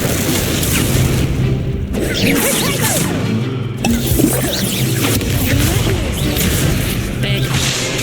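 Spell effects from Hogwarts Legacy gameplay, including the Incendio fire spell, burst with whooshing blasts and booms over continuous loud game noise, with no speech heard.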